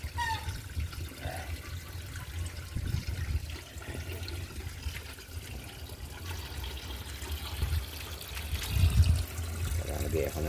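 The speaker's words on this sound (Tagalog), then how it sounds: "Lagay ako ng tubig ngayon." Water is poured into a catfish breeding tank, a continuous splashing trickle with low gurgling that stays close and fairly loud throughout, with some background talk.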